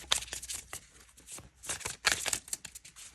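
Tarot cards riffled and shuffled by hand in quick papery bursts, a flurry early on and a denser run near the end, close and fairly quiet, with no talking.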